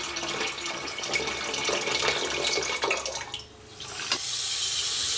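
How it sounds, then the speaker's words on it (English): Tap water gushes steadily into a metal pot to be poured into a Berkey filter in China, a loud continuous splashing stream that briefly dips before resuming. "I'm filling the Berkey up with tap water."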